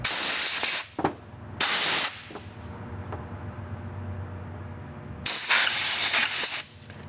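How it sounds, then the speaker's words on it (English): Compressed air blows clean on MG overdrive parts in three loud, sharp hissing bursts up close. Between them a lower, softer rushing hiss continues. "I'm going to use my compressed air and clean this stuff off"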